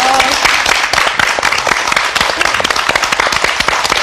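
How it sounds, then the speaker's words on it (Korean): Studio audience applause at a Korean talk show, dense sustained clapping with sharp individual claps, loud and close throughout. "여러분 박수 한번 보내주세요"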